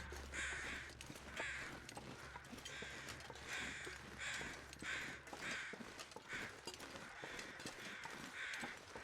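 Crows in The Long Dark caw repeatedly in a steady rhythm of harsh calls, with a low droning hum under the first several seconds.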